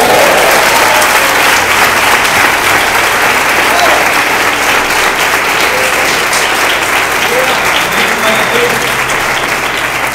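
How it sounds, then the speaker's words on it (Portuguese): Congregation applauding in church, a dense, steady wash of many hands clapping at close range, holding at full level for the whole stretch with no pause. "uma salva de palmas para Ele"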